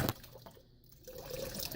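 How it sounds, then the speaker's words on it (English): An electric water pump pours a stream of water into cups, a faint steady trickle and splash rising slightly toward the end, heard alone without talk. "you got to get it just right so that the water comes out of the pump"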